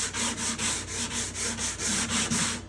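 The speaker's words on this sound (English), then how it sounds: "I do want to sand a little bit more" Hand sanding across a wooden guitar top, about ten even back-and-forth strokes in a steady rhythm. Each is a close, hissing rasp, and no voices are heard.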